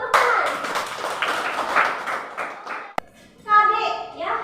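A classroom of students claps together in a short, loud burst that fades after a few seconds, followed by a teacher speaking.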